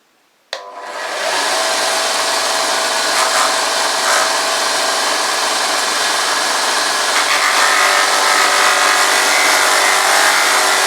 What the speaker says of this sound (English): I've got some rough sandpaper here, look, I'm going to just do the edge a bit